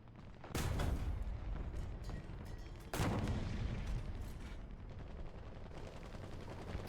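Tank cannon fire in a World of Tanks-style battle around a Maus: two heavy booming shots roughly two seconds apart, each followed by a long rumbling decay, with steady engine and battlefield noise underneath.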